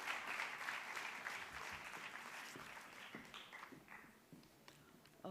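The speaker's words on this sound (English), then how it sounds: "A round of applause, ladies and gentlemen." Applause from the audience at a YWCA of Bombay sesquicentennial celebration, a full round of clapping that gradually thins out, leaving scattered individual claps near the end.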